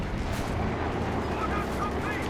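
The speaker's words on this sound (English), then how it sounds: "Panzer IV falls up in the wake of the artillery strike" An artillery barrage in the video game Company of Heroes 2 makes a dense, continuous rumble of explosions and booms that fills the short clip loudly, with no distinct single blasts standing out.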